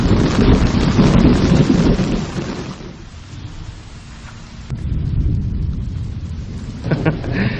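Heavy rain pours onto a rain tent at a campsite, a dense loud drumming hiss that eases in the middle then returns, with gusty rumbling and wind buffeting the microphone.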